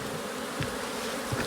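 Honeybees of the Ligurian strain buzz steadily around an open hive in Mediterranean garrigue scrubland, a continuous close insect drone with a couple of louder passes near the microphone.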